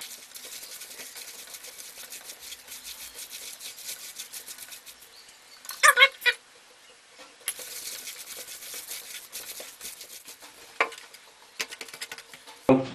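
Meat pie filling for Mongolian huushuur with nettle and spices being mixed by hand, with soft, wet squishing and stirring and a few sharper clatters against a bowl, close and continuous.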